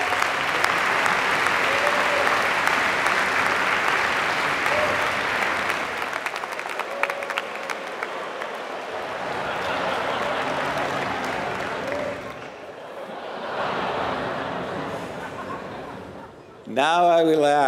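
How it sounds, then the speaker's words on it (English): Sustained applause from a large audience at a Stanford business school diploma ceremony, a dense steady wash of clapping that swells and dips for about seventeen seconds, with faint crowd murmur underneath. "Please join me in another round of applause for this committed group of student leaders."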